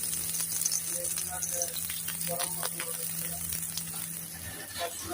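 Onions frying in oil for a curry make a quiet, steady sizzle with scattered small pops, and faint voices murmur in the background.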